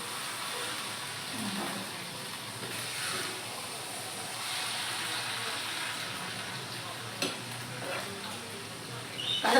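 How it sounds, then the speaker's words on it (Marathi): Noodles tossed with chili sauce in a hot pan at home, stirred through a continuous loud sizzle with scattered scraping and clinks of utensil against metal. "चिली सॉस आणि आपल्याला मस्त हलवून द्यायचं"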